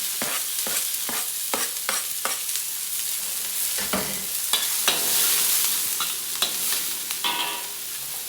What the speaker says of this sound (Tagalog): Yan, bawang, sibuyas, sili. Halo-halo na yan dyan.